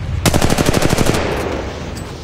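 Rapid automatic gunfire in the mobile shooter Apex Legends Mobile: a tight burst of about a dozen loud, evenly spaced shots lasting under a second, then trailing off into a fading echo and faint game ambience.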